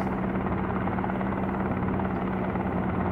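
Helicopter in a flight simulator video game, slowing down to land on a yacht: a steady, continuous rotor and engine drone at an even level, with no talk over it.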